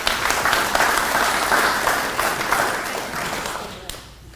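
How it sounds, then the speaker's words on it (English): A room of families and guests applauds at a school district teacher of the year reception, steady clapping that gradually thins and fades out toward the end. "So give yourselves a round of applause."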